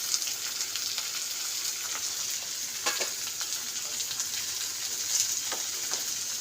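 Spices and tomato fry in a pan for a fish curry masala of kalo jire and amodi fish, a dense steady sizzle with occasional stirring scrapes, close and continuous with no talk.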